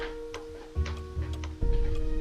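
An alarm clock ticking in the Nancy Drew video game Message in a Haunted Mansion, a few sharp, evenly spaced ticks over a low hum, close and clear.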